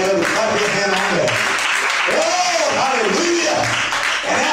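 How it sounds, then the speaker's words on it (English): A church congregation claps during a sermon, a loud continuous wash of hands with voices calling out over it. "somebody ought to clap your hand on that"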